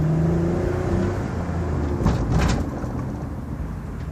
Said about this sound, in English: Give a little gas here.